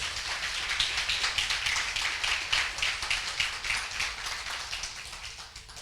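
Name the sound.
congregation clapping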